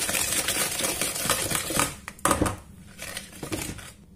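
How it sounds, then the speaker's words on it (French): A whisk beats a butter and egg mixture for almond croissant filling, giving rapid, irregular metallic clicks and scrapes against the bowl that pause briefly and resume, close and fairly loud. "On va bien fouetter jusqu'à ce que le mélange devienne homogène."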